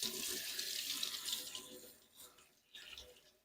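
Leeks rinsed under a running kitchen tap, steady close splashing water that breaks up and fades toward the end, with one last brief gush.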